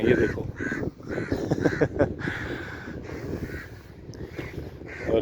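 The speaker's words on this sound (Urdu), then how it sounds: "یہ دیکھیں کووں کی آواز بھی آپ کو آ رہی ہے" Crows caw repeatedly among the trees of a park in Yanbu, Saudi Arabia, loud and close in a series of harsh calls, with someone talking briefly over them.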